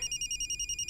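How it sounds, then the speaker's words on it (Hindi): A telephone rings in a steady repeating electronic trill, bright tones pulsing about ten times a second, loud and close with no talk over it. "ससुर जी का फोन है।"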